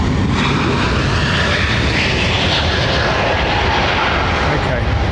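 An Airbus A380 airliner at London Heathrow Airport roars loudly and continuously with a broad rumbling engine noise, close and steady throughout.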